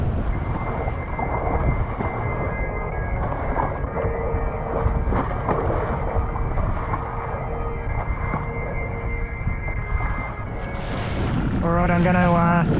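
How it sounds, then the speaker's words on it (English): Hybrid boat propulsion on Lake Hume, the main motor assisting the electric motor, gives a steady low engine drone with wind and water noise throughout, and a tonal whine rises near the end. "I'm employing the hybrid propulsion system with the main motor assisting the electric motor."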